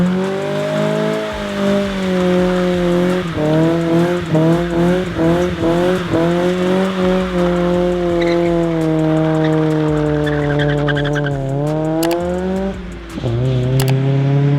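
A Mazda Miata drives steadily with a close, continuous engine drone that rises and falls gently with throttle and gear changes. No one speaks over it.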